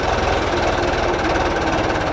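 A farm tractor's engine strains and labours in a maize field while being held back against the pull of an irrigation hose, a dense, loud, steady knocking drone with rapid rhythmic pulsing throughout.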